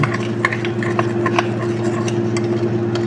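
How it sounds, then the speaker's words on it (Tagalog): Chocolate cake batter for a no-oven cake is stirred in a bowl: a continuous soft scraping with scattered light clicks of the utensil against the container, over a low steady hum, with no talking. "Haluin natin ganyan."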